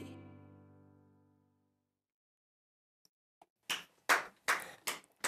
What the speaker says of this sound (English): I'll be the only one clapping on that